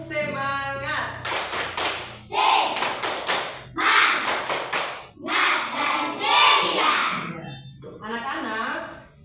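In a school classroom, a teacher leads children in a rhythmic ice-breaker clapping game, with groups of sharp claps in patterned bursts mixed with the children's chanting voices.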